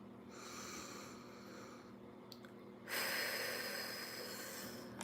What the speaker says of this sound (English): Also, I have to do my stress relief breathing.